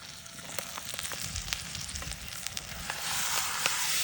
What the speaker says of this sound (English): We're searing it on all sides.